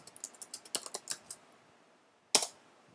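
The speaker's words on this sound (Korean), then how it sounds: "그러면 키보드를 이용해서 뭔가 입력해 보겠습니다." Typing on a computer keyboard: a quick run of about a dozen close, crisp key clicks over roughly a second and a half, then a pause and one louder keystroke, likely the enter key, with no talking.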